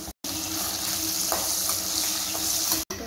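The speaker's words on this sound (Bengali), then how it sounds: "তেল গরম হয়ে গেছে, আমি আলুটা ভাজা করে নিচ্ছি।" Potatoes frying in hot oil in a pan, a loud, dense, continuous sizzle close by with light stirring clicks, briefly cut off at the start and near the end.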